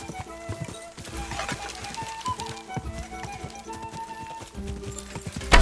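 Steady, rapid clip-clop of galloping horse hooves with a thumping rhythm, set against a busy Kingdom Come: Deliverance II game soundscape and ending in a loud thud.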